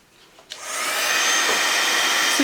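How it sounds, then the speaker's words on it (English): A heat gun switches on with a click and blows a loud, steady whooshing hiss while melting gold embossing powder on a card tag, held still close by, with no talking. "So we're just going to hold that heat gun still,"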